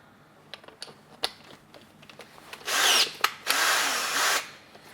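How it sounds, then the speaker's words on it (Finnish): A power drill bores a 13 mm hole during a BMW M50/M52 turbo build, first a few light knocks and taps, then two loud, sustained high whining bursts of drilling close by, separated by a short pause. "niin kairataan tuo 13 milliseksi tuo reikä tuosta ensimmäiseksi"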